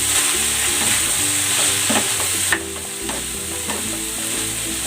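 Vegetables for lumpia (carrots, baby beans, bean sprouts and cabbage) sizzle in a hot pan while being stirred, a loud continuous frying hiss broken by scraping and tossing sounds, with no talk.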